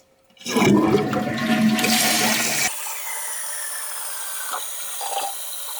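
A toilet flushes after a new flush valve repair kit is fitted: a loud, close rush of draining water for about two seconds, then a quieter steady refill hiss with small trickles.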